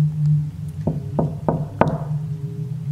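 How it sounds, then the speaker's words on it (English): Four evenly spaced knocks on a wooden door in a video game, the last one louder, sound over a steady low hum of game background audio. "I'm gonna knock on her door"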